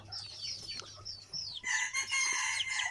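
Jungle fowl chicks clucking and chirping nearby, high squeaky calls that thicken into a dense chorus in the second half.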